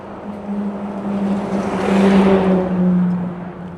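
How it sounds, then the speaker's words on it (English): A vehicle engine swells up and passes close by with a low drone, part of a continuous rumble of traffic on a major road in South London; no voices. "It's full of traffic, as you'd expect from a major road. It's very noisy."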